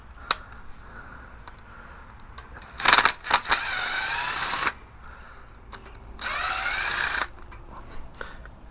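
A power driver with a flathead-to-3/8-drive adapter runs out screws on a Harley golf cart secondary clutch in two loud whirring bursts, with brief clanks and quiet pauses between.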